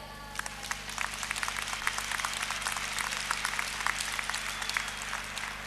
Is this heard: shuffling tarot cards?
no